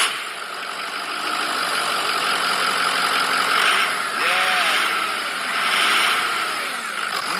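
A truck engine idles with a steady, rumbling drone at a moderate, even level, running continuously from the start without a distinct start-up burst.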